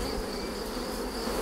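Honeybees buzzing steadily at an open hive in an apiary, a dense, continuous close-up drone with no talk over it.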